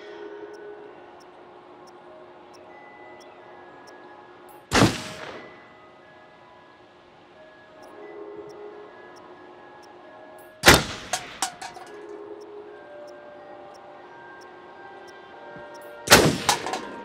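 Three loud gunshots at a shooting range in Until Dawn, spaced several seconds apart over a quiet outdoor ambience, each a sharp crack with a brief ringing tail, the later ones followed by quick rattling echoes.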